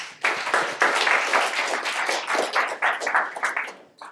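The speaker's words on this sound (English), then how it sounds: "Round of applause." A short burst of audience applause during an investing talk, dense and lively clapping for about four seconds that swells, holds steady, then fades near the end, with no speech over it.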